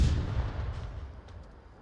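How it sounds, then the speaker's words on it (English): A C4 charge detonates in the VR shooter Onward as a single heavy, booming blast that rolls into a low rumble and fades away, with faint clicks near the end. "Oh, they're gonna launch their C4 just too early."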